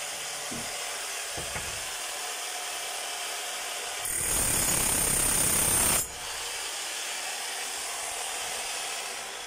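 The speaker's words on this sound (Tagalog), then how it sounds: "Malakas na po yung bayo niya. Pwedeng na sa pantibag." DeWalt D25899 demolition hammer running after armature and seal repair, a loud rapid hammering burst of about two seconds over steady background noise.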